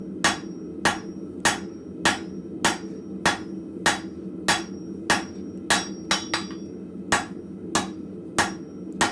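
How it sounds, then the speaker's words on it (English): A rounding hammer strikes hot metal at a blacksmith's forge in a steady, evenly spaced rhythm of sharp ringing blows, about two per second, loud and close, with a low background hum underneath and no talking. "using the rounding side of my rounding hammer, just working this down as much as I can"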